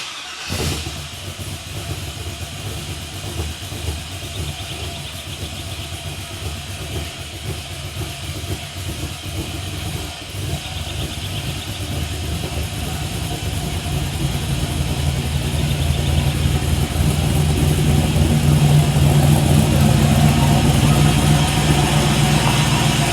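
A 1969 C10 truck with a swapped LS engine and Holley Terminator fuel injection runs at idle, a continuous low rumble that grows steadily louder and heavier over about twenty seconds, with no talking.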